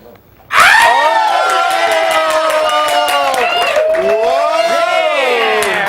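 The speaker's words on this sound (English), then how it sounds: "everybody clap and cheer for Butch Patrick" Studio audience clapping and cheering for Butch Patrick, bursting in suddenly and staying loud and dense with shrill whoops and screams through to the end, with voices mixed in.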